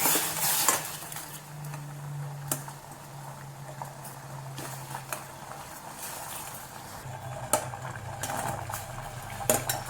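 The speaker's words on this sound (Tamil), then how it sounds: "வெள்ளம் கரைஞ்சி ஒரு ரெண்டு நிமிஷம் நல்லா கொதிச்சுதுன்னா போதும்" Melted jaggery boils in a pan while a utensil stirs it, giving a low bubbling simmer under occasional sharp clinks of metal against the pan, quiet and close, with no speech.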